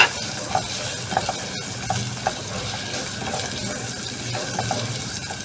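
Garlic and onion sauté in a pan for laing under a steady, even sizzling hiss, with light, occasional clinks of stirring. No one speaks.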